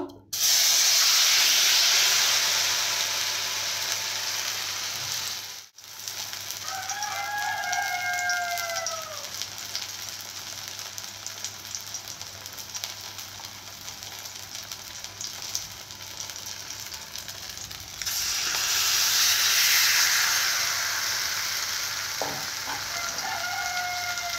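Bottle gourd leaves fry in hot oil with a steady, close sizzle that flares louder at the start and again near the end, while a rooster crows faintly in the background.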